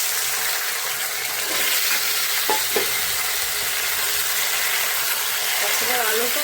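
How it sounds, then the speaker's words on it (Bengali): Cumin seeds and pointed gourd fry in hot oil, giving a steady, bright sizzle and hiss throughout with occasional stirring scrapes. "তেল গরম হয়ে গেছে কাঁকরোলটা রান্নার জন্য। তেলের ভিতরে আমি দিয়ে দিলাম জিরে, ফোড়নে জিরা দিলাম, দিয়ে দেবো কাঁকরোল।"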